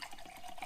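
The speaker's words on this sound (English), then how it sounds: "take your tomato sauce cans that we set aside just shortly ago. What you're going to want to do is top these off with water" Water pours from a tap into empty tomato sauce cans for a griddle chili, a steady close splashing fill lasting under a second with no talk.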